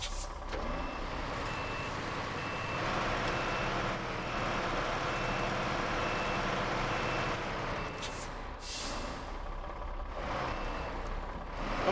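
Truck reversing beeps in the video game SnowRunner, from a Caterpillar CT380 or International HX, sound as a steady alarm over a constant engine drone and road noise, heard alone without talk.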